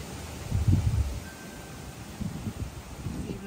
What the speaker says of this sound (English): check out the wind